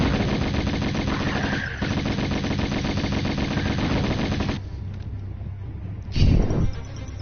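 Rapid automatic gunfire from the video game Tomb Raider rattles continuously and loudly for several seconds, then drops away into quieter game ambience before a short burst of louder noise near the end.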